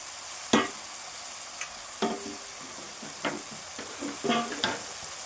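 Ginger garlic paste fries with tomato and onion in a pan for a chickpea curry cooked with mutton fat, a steady soft sizzle broken by several sharp scraping stirs, no talking.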